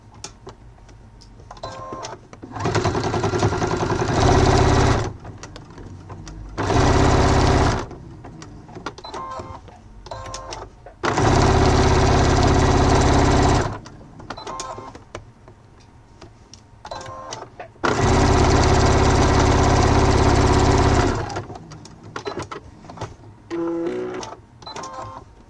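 A sewing machine with an automatic thread cutter stitches a fabric multi-function wallet in several loud, steady bursts of whirring, separated by quieter pauses with small clicks and handling noises.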